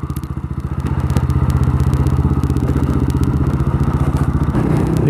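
A scooter on a town street idles and revs nearby, its engine putting out a loud, fast, regular pulsing rattle that holds steady for several seconds.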